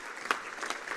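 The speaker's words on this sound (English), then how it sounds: "Why don't you give yourself a round of applause for that?" Crowd at a labour activation programme project launch applauding, a dense, even wash of clapping hands heard from the middle of the audience with no voices over it.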